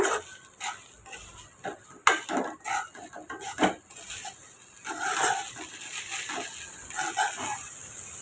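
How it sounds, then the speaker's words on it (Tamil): Soya fried rice with crushed pepper is mixed in a pan, with intermittent knocks and scrapes of a utensil against the pan, close and moderately loud, over a faint background hiss. "இப்போ இதை நல்லா மிக்ஸ் பண்ணி விட்டுக்குங்க"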